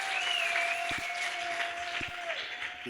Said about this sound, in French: Merci pour vos acclamations.